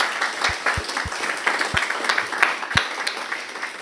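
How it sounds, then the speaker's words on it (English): A room of attendees at a side event on Earth observation data and the Global Stocktake gives the panel a final round of applause, a moderate patter of clapping with a few sharp, distinct claps standing out near the front. "Let's give a final applause to the panel."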